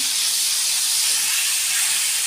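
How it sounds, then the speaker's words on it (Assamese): Food frying in a pan gives a loud, continuous, even hiss of sizzling oil, close to the microphone, with no talk over it. "এয়া ভাজি আছে।"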